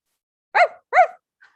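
Two short yapping barks made by a human voice imitating a fox, close and clear, followed by a faint brief sound.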